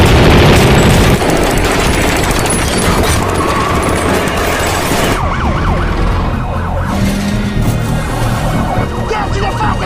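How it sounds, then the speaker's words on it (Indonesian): Gunfire in a film bank robbery shootout, loud and dense, mixed with sirens and a dramatic score that keep going after a sharp shift partway through. "Melihat temannya disandra, tanpa ragu Jim menembak polisi tersebut."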